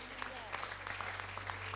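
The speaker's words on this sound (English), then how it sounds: "Can we clap for Jesus?" A church congregation claps for Jesus during a live worship service, sustained crowd applause with scattered sharp claps over a steady low hum, and a voice faintly present underneath.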